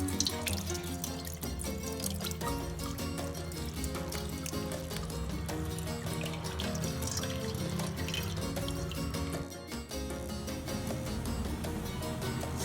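A pot of water boils for cooking sago tapioca pearls at home, giving a continuous bubbling, churning liquid sound, steady and fairly close, with no talking.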